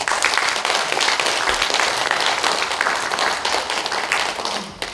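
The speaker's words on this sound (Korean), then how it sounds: "박수 이럴 때 나와요." Sustained applause from a lecture audience in a large National Assembly conference hall fills the room, dense and steady, with no voices over it.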